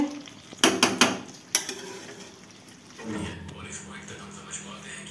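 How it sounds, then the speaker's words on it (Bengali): Mutton kosha being stirred and cooked in a pot, with a few loud scraping clatters early on followed by a softer steady sizzle, while people talk nearby. "আমাদের পয়লা বৈশাখ স্পেশাল মাটন কষা ভালো করে কষানো হচ্ছে"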